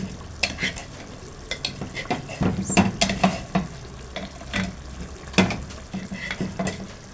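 Garlic frying in a pot for Egyptian stuffed vegetables gives a steady soft sizzle, broken by irregular scraping and clinking as a spoon stirs against the pot, nearby and with no talking.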